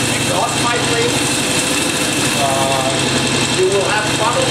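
A Norton motorcycle engine idles in a closed garage, a steady rapid engine drone running loud and continuous throughout, with voices talking over it.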